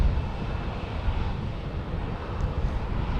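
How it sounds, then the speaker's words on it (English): A Delta airliner taking off at Portland airport, heard as a steady broad roar of jet engines at a distance, continuous throughout with some wind rumble and no talk. "Is this Delta taking off?"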